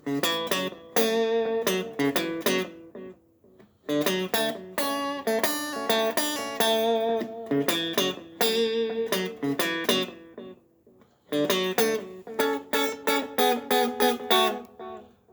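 A plucked guitar plays a bright arpeggiated phrase in short bursts with brief pauses, each note trailed by a faint echoing repeat.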